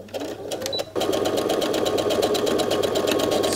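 Close by, a sewing machine stitches fabric for a Christmas stocking, a brief start and stop, then a steady, rapid mechanical chatter running without pause.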